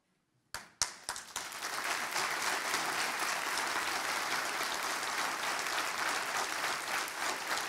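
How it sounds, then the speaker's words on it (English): Applause at a military induction ceremony in Glendale, Arizona starts with a few sharp claps, then quickly swells into sustained, full crowd clapping that continues evenly to the end. "let's give them a round of applause."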